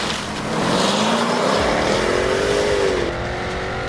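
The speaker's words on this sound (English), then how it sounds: "With the scream of the uncorked exhaust echoing off the cliffs" A Jaguar F-Type V8S sports car with an uncorked exhaust roars on winding mountain roads in Spain, its engine note climbing steadily under acceleration for about three seconds and then easing off, loud and close.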